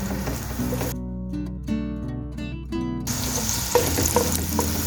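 Onions frying in a pan toward light brown give a steady sizzle, broken midway by a stretch of tonal, machine-like humming before the crackle returns.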